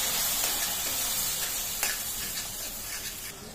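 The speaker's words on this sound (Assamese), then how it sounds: "ইয়াত দিছোঁ 2 চামুচমান পানী দি মছলাখিনি ভালদৰে ভাজি" Masala of coriander powder and red chilli powder frying in a pan with about two spoons of water, a steady close sizzle and hiss throughout with a few faint scraping clicks, no voices.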